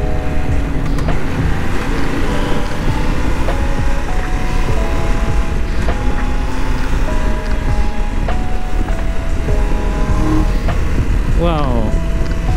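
Triumph Tiger 1200 Rally Explorer motorcycle engine downshifting on a ride in Chiang Mai, Thailand, loud and steady with wind rush and rising and falling engine tones, a quick run of revs near the end, under a rider's talk.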